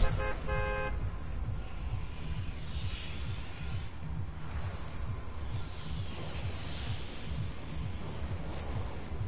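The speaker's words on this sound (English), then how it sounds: "The battle bus!" The Fortnite battle bus honks its horn in a short, loud burst of rapid toots right at the start, then a steady engine rumble and faint whooshing continue with no voices.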